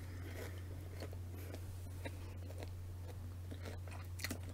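Chocolate with a hazelnut center being bitten and chewed close up, soft crunches and mouth sounds over a steady low electrical hum, with no talking.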